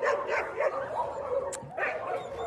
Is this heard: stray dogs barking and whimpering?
yes